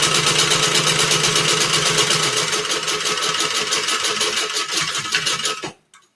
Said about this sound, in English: All right, let me top stitch it.